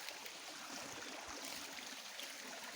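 A stream rushes steadily, a broad continuous wash of flowing water with no voices.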